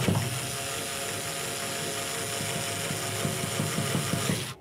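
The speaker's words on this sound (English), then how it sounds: "I'm going to use a winder bit and a drill." A power drill fitted with a winder bit spins a double bass tuning peg to loosen the string, giving a steady mechanical whir with rhythmic ticking, close and continuous.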